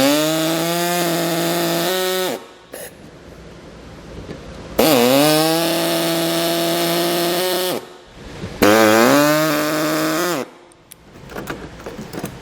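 A power tool cuts the brittle plastic air dam on a 2015 Jeep Cherokee in three loud whining bursts, the pitch dipping and rising as the blade bites, with short quiet gaps between.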